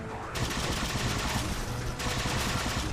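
Rapid bursts of plasma cannon fire from Halo 4 on Legendary difficulty, a dense, crackling stream of repeated shots at close range, pausing briefly and then resuming, with battle noise and no voices.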